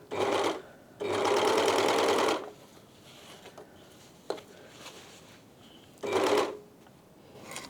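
A sewing machine stitches trouser fabric in three loud, close bursts of rapid mechanical whirring, the longest lasting over a second, separated by quieter pauses with faint handling clicks.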